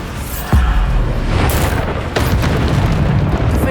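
Bombarda spell blasts in Hogwarts Legacy: two deep booming explosions about a second and a half apart, each with a rumbling tail, over a continuous loud roar of game effects.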